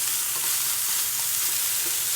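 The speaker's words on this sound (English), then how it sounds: "Just keep stirring so it doesn't stick to the bottom." Sponge gourd sautés in a pan over low heat while being stirred, giving a steady, dense sizzle that fills the whole moment without a break, close and even, with no voices.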